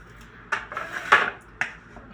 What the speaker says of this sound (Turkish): Şöyle ufak ufak doğruyorum.